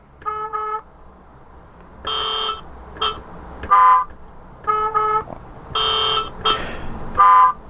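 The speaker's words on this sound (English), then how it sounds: "you've got car horns" Car horns from a Gaugemaster Scenic sound module toot in a loose sequence of short beeps and longer honks, several separate blasts spread across the clip, loud and close.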